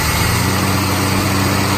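A Holden VC Commodore engine, rescued from a wrecking yard, runs loud and close as its throttle is worked, a continuous rough, buzzing drone with no talking.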